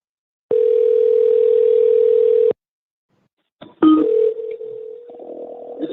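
A telephone dial tone hums steadily for about two seconds as a phone call is being placed, then cuts off and is followed by brief clicks and a fainter, wavering electronic tone.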